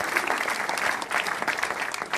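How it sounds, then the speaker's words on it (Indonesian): Studio audience at a televised stand-up comedy show applauding, sustained clapping from a crowd with steady, dense claps throughout. "beri tepuk tangan untuk Dr. Boyke."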